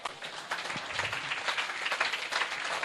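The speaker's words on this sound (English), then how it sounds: "Round of applause." An audience at a Startup Weekend Cologne final-pitch event applauds after a startup pitch, a steady, fairly loud wash of many hands clapping that keeps going evenly.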